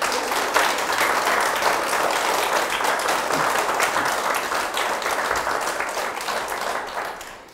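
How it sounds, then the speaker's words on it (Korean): A lecture hall audience applauds, many hands clapping in a loud, sustained burst that carries evenly and then fades slightly toward the end. "여러분 정조한테 박수 한번 주세요."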